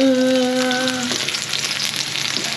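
Ingredients sautéed with bitter gourd (ampalaya) in a pan give a loud, close sizzle with stirring scrapes. A short tone sounds at the start, and no one talks.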